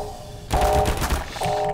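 Automated turrets in Half-Life 2 open fire in a fast rattling burst after a brief quiet hum, rapid shots running for about a second.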